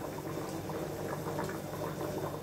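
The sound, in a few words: water boiling in a pot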